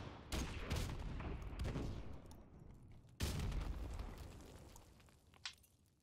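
Heavy gunfire and explosive blasts in a competitive shooter video game, a burst of loud booms and rattling shots followed by a second big blast that trails off, one small pop near the end.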